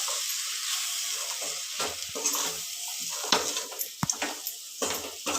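A spoon stirs chilli powder and sambar powder through a sizzling mixture in a pan for egg chicken sambar, with rhythmic scraping strokes, a few metallic clinks against the pan, and a soft frying hiss beneath.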